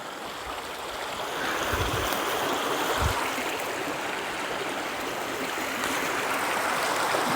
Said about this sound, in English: it's right next to this beautiful river.